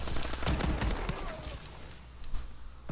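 Fireworks going off in the video game Call of Duty Advanced Warfare, a fairly faint flurry of cracking bursts and pops over game noise that fades midway, with a few more scattered pops toward the end.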